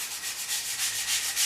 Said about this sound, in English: I'm just sanding off those irregularities.